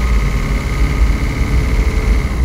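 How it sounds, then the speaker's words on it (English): A Toyota Prius hybrid engine starts up and runs under light acceleration, a steady low rumble with a constant mid-range hum, close and fairly loud throughout with no voices. "You can see how the engine kicked on with little pedal pressure."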